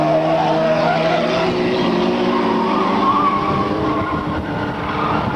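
Stock cars race on a track with engines roaring together and tires squealing, a loud, sustained pack of motors that rises and falls as cars pass close by.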